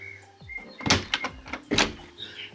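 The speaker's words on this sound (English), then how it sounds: "This door better not be locked. It's locked." A locked door being tried and rattled, with a few sharp knocking thuds and handle rattles in quick bursts, close and fairly loud, with no talking over them.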